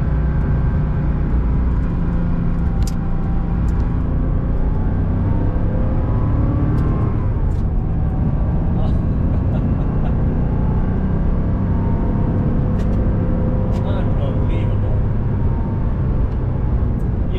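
A vintage air-cooled Porsche 911 engine drones steadily while driving, a loud continuous mechanical hum with shifting tones as revs rise and fall, no voices.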